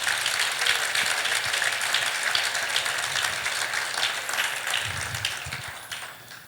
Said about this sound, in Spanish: Si va a aplaudirlo, hágalo fuerte.